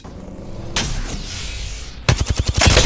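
Gunfire in the battle royale game Apex Legends: a sustained burst of shots, then a rapid automatic string of sharp, loud, evenly spaced reports close by, with no talk over it.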